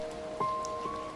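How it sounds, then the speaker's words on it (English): Steady rain patters on the steep roof of a wooden cabin, a soft, even hiss with a few louder drips and tones threaded through. "Its roof is steep, shedding the rain in long silver ribbons that pool at the corners and"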